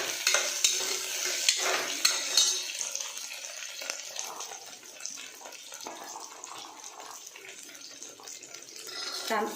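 Chopped vegetables and potatoes for vegetable pulao being stirred in a pot, with close, irregular scraping and wet sloshing sizzle that is busier at first and then eases off.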